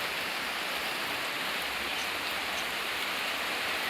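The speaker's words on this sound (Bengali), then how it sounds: "অনেক বৃষ্টি হচ্ছে।" Heavy rain pours down in a garden with a lemon tree and banana plant, a dense, steady hiss of drops on leaves and ground with no pauses.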